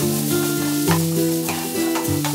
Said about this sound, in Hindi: ये देखिए जी, क्रैकलिंग की आवाज़ आनी शुरू हो गई है।